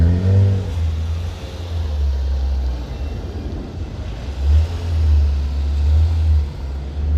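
A Porsche sports car drives past on a street in Wynwood, Miami, its engine a loud low rumble that swells near the start, eases, then surges again as it accelerates away, with no talk.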